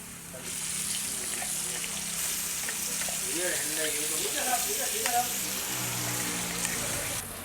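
Steady crackling sizzle of an onion, green chilli, tomato and garlic paste frying in a hot pan, continuous and close, with occasional stirring sounds and a faint voice underneath.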